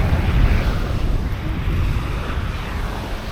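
Strong ocean surf rolls in at Boracay beach, a loud, steady wash of breaking waves with heavy wind buffeting the microphone and no voices.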